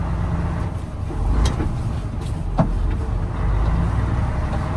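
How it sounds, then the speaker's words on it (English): A truck engine rumbles low and loud from inside the cab while the driver downshifts with double clutching, the revs rising and falling, with a few sharp clicks and a brief air hiss. "Double clutch up. Double clutch to third."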